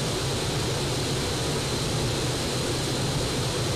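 A plane flies in a Roblox game, a steady, loud, unbroken engine drone that holds level throughout without variation.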